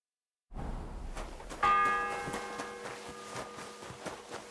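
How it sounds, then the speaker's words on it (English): A church bell in the video game Kingdom Come Deliverance II strikes once with a clear, resonant clang, then its ringing tone decays slowly over a low background hum. "The first bell."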